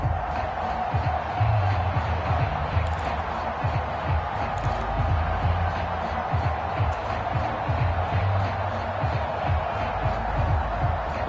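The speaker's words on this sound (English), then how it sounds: "Listen to this crowd now." Stadium crowd cheering in a PS4 football video game during a tense two-point conversion attempt, a steady dense roar filling the whole stretch with constant texture, mixed with game sounds and commentary voices over it.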